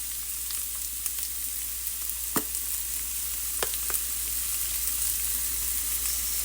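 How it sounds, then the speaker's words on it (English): Walnut taco meat sautés in a pan with a steady, close hiss, broken by a few sharp utensil taps against the pan. "Just let that saute really nicely."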